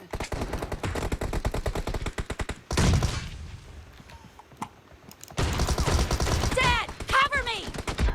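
Shotgun fire in an online shooter game, a rapid burst of repeated blasts, a booming shot and decaying tail, then more heavy gunfire, loud and close, with some game sound effects mixed in.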